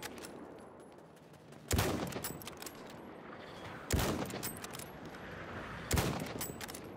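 Three sharp, loud gunshot blasts from Battlefield 1 gameplay, spaced about two seconds apart, each ringing out over a steady background of battlefield noise.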